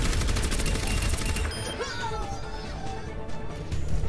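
Orisa's gun firing in Overwatch, a loud, fast, unbroken stream of rapid shots from a large-magazine weapon, easing somewhat midway as other game effects chirp faintly.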